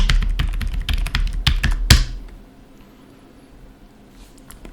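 Rapid typing on a computer keyboard, a quick run of loud close key clacks ending in a firm final tap, then near quiet.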